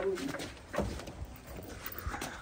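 Pigeons coo softly in short, low murmuring calls, faint and close, with a few brief rustles and background noise between them.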